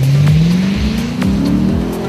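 A Lexus IS-F muscle sedan snarls loudly while driving, its exhaust note climbing steadily in pitch under acceleration with a close, rough growl and faint tire noise.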